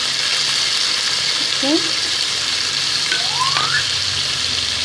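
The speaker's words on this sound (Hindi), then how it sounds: "प्याज को मैंने फ्राई होने के लिए रख दिया था" Onions sizzle steadily in a hot pan while a prawn karahi is being cooked, a continuous frying hiss with a brief spoken word over it.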